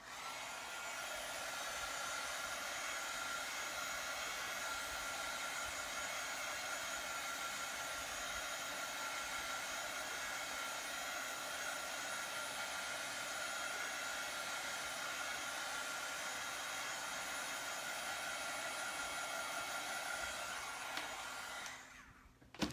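A hair dryer blows steadily on paper craft flowers, a loud, even, close whoosh that runs without break for most of the stretch before cutting off abruptly at the end, with no one talking.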